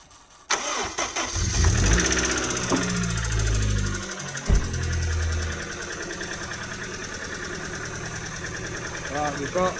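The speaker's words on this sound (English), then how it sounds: "Got to start the engine and add this slowly" Land Rover K series engine, with a failing head gasket, cranks and catches, then settles into a loud, steady running rumble close by, with a brief surge partway through.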